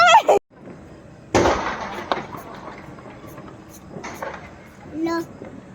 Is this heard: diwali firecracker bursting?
yes